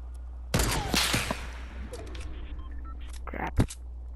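Video game gunfire: a burst of sharp shots early, then scattered clicks and one more loud crack near the end, with faint speech in between.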